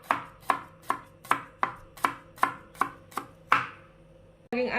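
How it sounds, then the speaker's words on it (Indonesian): Knife slicing shallots thinly on a board for frying, ten crisp evenly spaced chops close by with a brief pause and a shift at the end, no voices. "Saya mau iris bawang dulu untuk digoreng ya"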